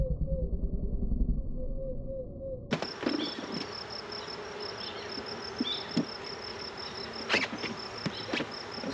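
A large honeybee swarm being shaken from a trap into a hive among brood frames: a dense, loud, continuous buzz bursts in abruptly after a quiet start and stays close, steady and unbroken with occasional louder swells.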